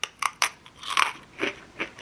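Crisp crunching bites and chews of a sweet and salty crunchy snack, several sharp close crackles spaced irregularly over about two seconds, loud and right at the mouth with no talking.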